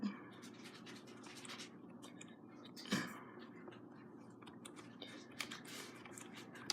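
Keys clatter on a computer keyboard in rapid, uneven bursts with scratchy clicks, fairly close and steady throughout, with one louder knock near the middle and faint background voice.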